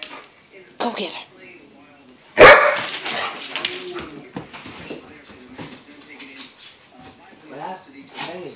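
A dog barks and yips excitedly in a home while people talk over it, with one loud burst of sound near the middle and softer vocal noises scattered throughout.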